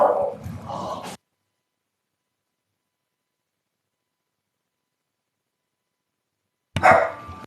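A dog barks at close range in a short burst of a few loud woofs, then after a long silence gives another brief bark.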